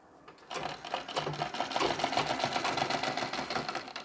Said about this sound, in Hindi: बहुत ही धीरे धीरे आपको इसमें सिलाई लगानी होती है